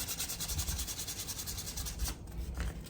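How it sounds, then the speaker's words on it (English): Sandpaper rubbed over a painted motorcycle frame to take it down to bare metal, a close rhythmic scratching in quick even strokes that stops briefly near the end, with no talking. "we're just gonna go ahead and take that down to bare metal"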